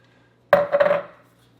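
A tablespoon scraping peanut butter out of a jar gives one short, close scrape-and-clink of about half a second, with a few quick scratchy strokes that fade against a quiet room.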